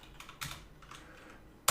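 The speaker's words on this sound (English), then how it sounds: "So if I type Thunar" A few soft keyboard clicks type a program name on a Manjaro Linux computer, one slightly louder tap among them, ending in a sharp loud key hit, with no voices.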